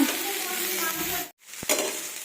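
Punko greens frying in a pan with a steady sizzle and some stirring, close up, broken by a brief silent gap and a soft clink of a utensil.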